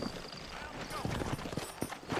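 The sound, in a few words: horses' hooves clip-clopping in Red Dead Redemption video game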